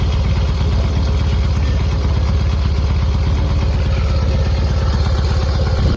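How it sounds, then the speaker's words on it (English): Harley-Davidson motorcycle engine idling with a deep, throaty, loping growl, a steady low pulsing rumble that is loud and close throughout, with no voices. "This engine roars to life with the deep, throaty growl that Harley enthusiasts know and love."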